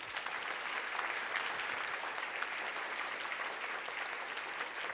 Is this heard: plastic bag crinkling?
no